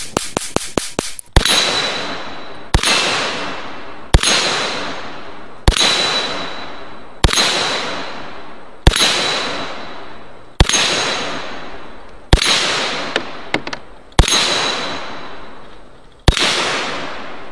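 Ten loud, sharp rifle shots from an M1 carbine fire at a steady pace, each followed by a long echoing decay outdoors, with faint metallic rings of rounds striking steel targets.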